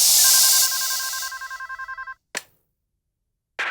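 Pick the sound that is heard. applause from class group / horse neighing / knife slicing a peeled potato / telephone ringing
telephone ringing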